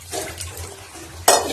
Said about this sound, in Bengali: ধুয়ে নিই প্যাকেটটা, বাইরের থেকে নিয়ে এসছি তো।